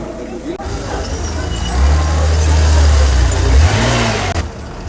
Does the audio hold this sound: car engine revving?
yes